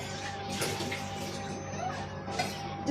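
Water is poured into a pot of dal with onions and ground spices, a steady splashing stream that stays faint under the kitchen background.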